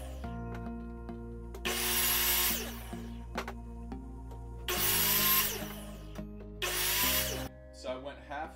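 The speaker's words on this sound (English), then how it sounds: "I'm going to take it to the chop saw and I'm going to cut at those side marks halfway into the stud." A chop saw cuts halfway into a 2x4 wooden stud in three loud, close bursts of harsh whining and ripping, each a second or so long, with a steady motor hum and faint clatter in the pauses between.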